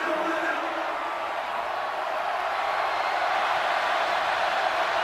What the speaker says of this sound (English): You can hear this crowd right back in this game.